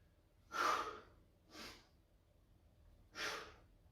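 Heavy breathing during a shoulder press workout: three forceful, airy exhales, the first loudest, spaced about a second apart and close to the ear, with no talking.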